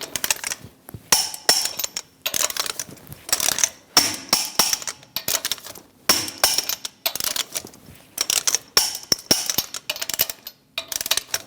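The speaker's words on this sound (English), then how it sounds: "we're going to torque the lug nuts to 140 foot-pounds in a star pattern." Lug nuts on a Chevrolet Express 2500 van wheel are tightened with a 22mm socket and torque wrench, giving repeated bursts of close metallic ratcheting clicks separated by short pauses, with no talking.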